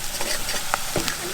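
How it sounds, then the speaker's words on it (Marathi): Pav bhaji masala being sautéed with onions in oil at a campsite in Nubra Valley, Ladakh, a close, steady sizzle with quick scraping stirs of a spoon in the pan. "कांद्याबरोबर तो मसाला असा परतला ना की छान होतो"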